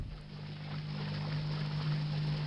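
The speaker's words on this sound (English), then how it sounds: "it is a bit loud. I've got 32 Watermills here." Thirty-two watermills running together in Minecraft with the Tekkit Industrial Craft mod make a steady, loud, continuous rushing drone with a low hum, unbroken and without speech.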